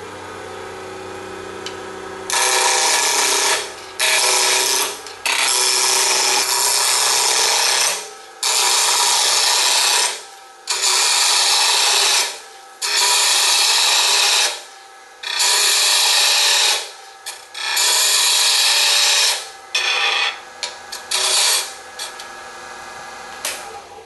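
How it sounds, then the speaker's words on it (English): A bottle stopper blank on a wood lathe is cut with a tool in repeated loud scraping bursts of several seconds each, separated by short pauses, over the lathe's steady low hum. "turn on the lathe."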